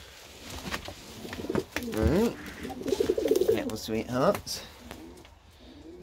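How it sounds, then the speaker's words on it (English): Pigeons coo softly in a home loft among a young pair's first hatchlings, low throaty rolling calls rising and falling under a person's close, gentle talk. "let's let people see some of the other pigeons."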